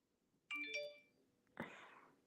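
A short electronic phone notification chime, a few stacked bright tones over about half a second, fairly quiet and alone, followed by a brief rustling noise.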